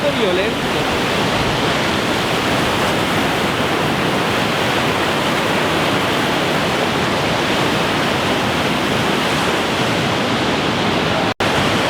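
A violent, rushing river close by near Niagara Falls, a loud, steady broadband roar of churning water that holds constant throughout with no pauses.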